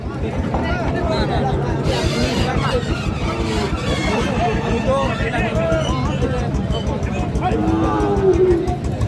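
Cattle low repeatedly at a busy livestock market where Sahiwal heifers are sold, loud moos rising over a constant crowd hubbub, with people talking nearby throughout.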